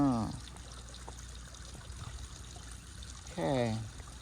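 Water from an RV gray water tank trickles and dribbles steadily as it is pumped out outdoors, a low continuous flow, with brief pump bursts at the start and near the end.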